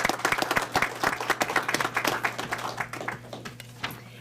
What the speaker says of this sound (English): So if we could, a round of applause for Kelly.